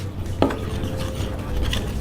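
A flour batter for a banana snack is stirred in a bowl, with clinking and scraping of a utensil against the bowl, including one sharper knock early on, in a quiet kitchen with no talk.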